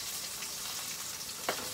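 Garlic and onion sautéing in a pan for pancit bihon, a steady soft sizzle filling the short clip, with one brief louder spatter or stir near the end.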